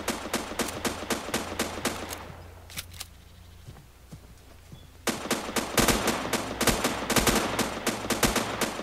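Rapid automatic gunfire in the survival shooter Next Day: Survival, sustained bursts of sharp shots that pause briefly into a lull, then resume even louder and denser.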